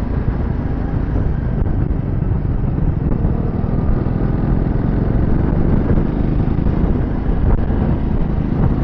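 A TVS Ntorq 125 scooter rides along a rough alternate road, its steady engine drone mixed with heavy wind rumble against the microphone, loud and continuous throughout with no talking.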